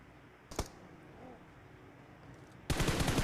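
Short bursts of rapid gunfire in PUBG Mobile, one brief burst early and a louder sustained rattle at the end, over a quiet background.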